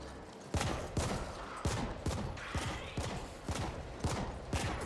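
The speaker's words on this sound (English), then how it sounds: "gun's got a nice meaty sound to it." Gunfire in the video game The Ascent, a series of punchy, evenly spaced shots over a dense, busy game soundscape, moderately loud.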